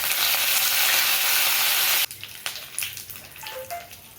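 Mustard seeds, cumin, dried chillies and curry leaves sizzle loudly in hot oil for a Kothavarangai usili, a steady crackling hiss that suddenly drops to quieter spatters, pops and a few stirring clinks.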